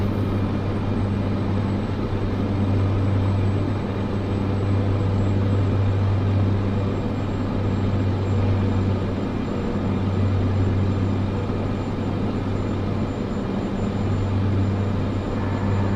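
Airliner on final approach to land in Microsoft Flight Simulator 2024, a steady, loud engine drone with a low tonal hum holding constant throughout, alone with no talk.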